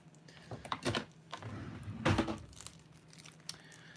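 Package cut open with dull scissors, crinkly plastic and paper crunching and tearing in a few short bursts, close and fairly quiet indoors.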